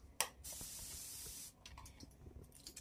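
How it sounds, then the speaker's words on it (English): A single long hiss of a lavender room spray can, about a second of steady spraying close by in a quiet room in Yubari, Hokkaido, with a small click at the start. "Have a room spray."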